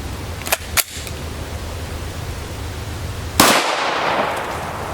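Two sharp gunshots from an FN Five-seveN pistol firing EFK Firedragon ammunition through a 7-inch barrel, quick and close together, followed after a pause by a louder blast with a lingering noisy tail.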